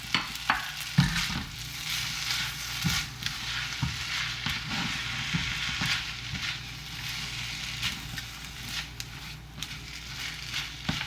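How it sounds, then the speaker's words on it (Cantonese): Singapore-style rice noodles with bean sprouts, egg strips, shrimp and curry powder stir-fried over high heat in a wok, with steady close sizzling and crackling broken by repeated scraping tosses of the spatula. "咁而家呢，我哋可以轉翻大火嚟炒。"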